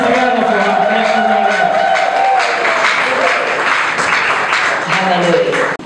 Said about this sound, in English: Let's clap our hands together for our precious